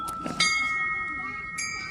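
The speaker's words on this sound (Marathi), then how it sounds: "तिने एक एक करून सगळ्या घंट्या वाजवायला सुरुवात केली." Temple bells rung one after another at a Mahadev temple, two or three bright metallic strikes with ringing overtones, moderately close and separated by short pauses.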